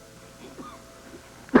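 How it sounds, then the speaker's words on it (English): A single sharp cough bursts out near the end after a stretch of quiet room tone, from a dramatized scene of Poe's The Cask of Amontillado. "How long have you had that cough?"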